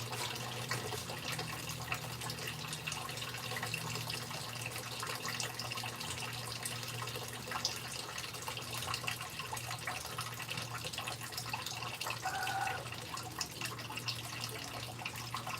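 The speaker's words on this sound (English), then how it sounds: "let me turn up the hot water now." Hot water running steadily from a kitchen tap while a blender is rinsed, a continuous close hiss and splash with a brief change in flow near the end, no talking.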